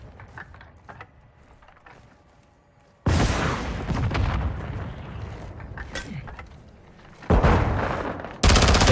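Bursts of automatic gunfire and booming blasts in Call of Duty Modern Warfare 2, starting after a quiet lull, then sustained loud firing with a fresh heavy burst near the end.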